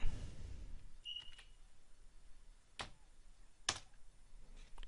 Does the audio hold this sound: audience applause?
no